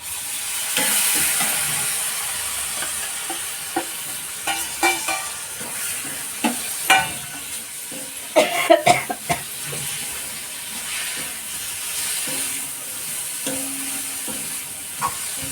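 Prawns (kolambi) cook in a masala gravy in a pan, with a soft continuous sizzle and bubbling and intermittent scraping and clinking of a spoon stirring, the louder knocks clustering near the middle.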